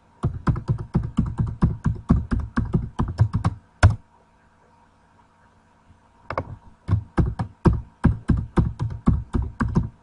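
Someone types a password on a computer keyboard in fast, close bursts of clicking keystrokes, with a two-second pause before the typing resumes.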